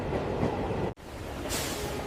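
A train runs steadily along the rails at night with a continuous loud rumble and rolling wheel noise. A brief cut breaks it near the midpoint, then a brighter hiss joins the roar.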